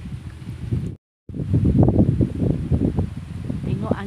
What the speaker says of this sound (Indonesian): Angin sepoi-sepoi bahasa kan.